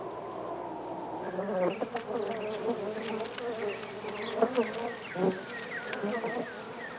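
Honeybees buzz steadily up close, a dense whirring hum with wingbeat tones that swell and fade as insects pass, with a few brief louder surges and no voices.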